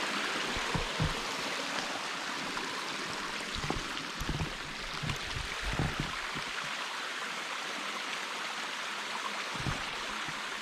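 A stream on a hiking trail in Oil Creek State Park flows with a steady, soft, continuous rush of water, heard alone with no talk.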